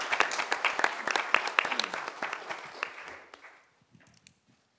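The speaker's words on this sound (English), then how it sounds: "let's give them a round of applause" Applause at a commission meeting, many hands clapping densely and fairly close, then thinning to a few scattered claps and fading into near silence.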